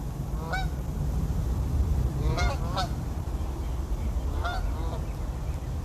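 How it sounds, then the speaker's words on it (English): A flock of geese honks in several short, nasal bursts scattered over a steady rushing outdoor background, with no one speaking over the calls. "that's a goose, right?"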